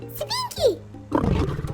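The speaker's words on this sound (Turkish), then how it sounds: "Bak işte sesini duyduğumuz aslan buradaymış." A lion's roar from a cartoon safari, a short, rough, low roar closing the moment right after brief vocal sounds from characters.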